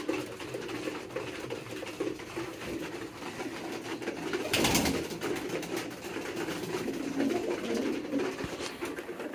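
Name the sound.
pigeon cooing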